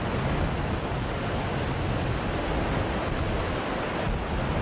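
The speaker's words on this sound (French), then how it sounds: "quand les eaux du Zambèze se rassemblent en bouillonnant au pied des cascades" Low-water Zambezi River churning and roaring at the foot of Victoria Falls during the dry season: a steady, dense broadband rush with no pauses, loud and close, alone without voices.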